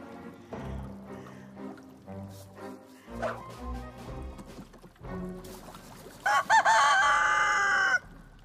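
Chicken clucking and crowing with a rooster, several short uneven calls followed by a loud sustained crow near the end, close and clear with no talk.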